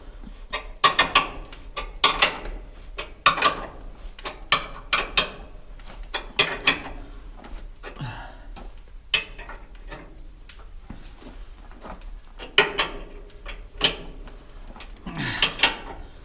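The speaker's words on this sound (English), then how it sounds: "I'll go ahead and start tightening these back down" A ratchet wrench tightens bolts on a Bandit 18XP wood chipper, sounding as repeated bursts of sharp metallic clicks with short pauses between them.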